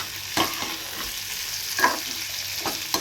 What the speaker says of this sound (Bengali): ডিম আলু সব রকম মশলা দিয়ে এখন কষানো হচ্ছে